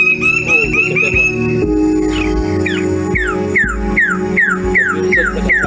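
Birds of paradise give loud, close calls in a mating display: a run of clear, rapid whistled notes, then a repeated series of sharp descending cries in steady rhythm.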